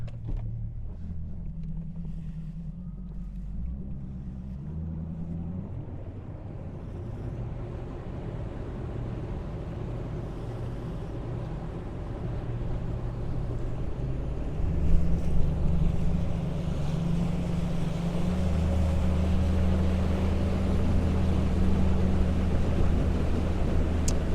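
A 2020 Nitro Z21 bass boat with a Mercury 250HP Pro XS outboard runs on open water, a loud steady engine drone that rises in pitch as it speeds up, mixed with wind buffeting and rushing water, without talk.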